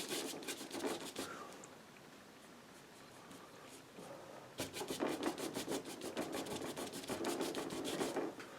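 Oil-paint brushes are rubbed and pushed into the palm with a strong grease remover, producing close, bristly scrubbing bursts in rapid rhythmic strokes, with a quieter pause in the middle and no talk.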